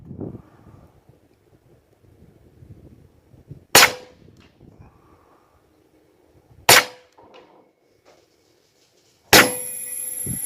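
Huben K airgun firing pellets outdoors at 100 yards in wind, three sharp, loud reports spaced a few seconds apart, each with a brief decaying tail, over light wind noise.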